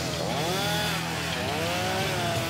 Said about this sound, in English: A chainsaw in this part of the country is a redneck's best friend.